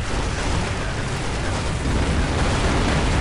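Continuous roar of explosions in the tank battle game Iron Grip: Warlord, a dense, loud wash of rumbling blasts with no letup and no voices.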